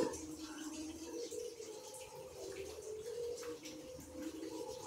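Water pours into a pot of katla fish and taro curry and is stirred, a steady watery splashing and trickling running throughout at moderate level with faint kitchen clatter, no talking.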